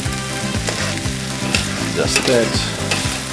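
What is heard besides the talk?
stirring lobster paella with saffron in a sizzling pan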